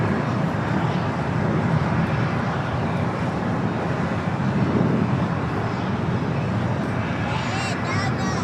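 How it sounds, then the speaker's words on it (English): A United Airlines Boeing Dreamliner taxis toward a gate at LAX, its engines giving a steady, broad rumble with hiss and wind buffeting that holds for the whole stretch, while faint voices run underneath. "United Air Tahiti Dreamliner making that left-hand turn"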